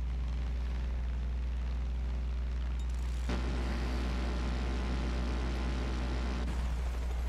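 Plane blowing up during an aerial fight in the video game Far Cry 5: a sudden broad burst that hits partway through, then a sustained roar over steady engine drone, with a second surge near the end.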